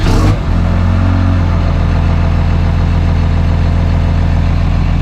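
A bulldozer engine idles loud and close with a steady, throbbing low rumble, its blade hydraulics showing an intermittent fault, after a brief louder burst at the start.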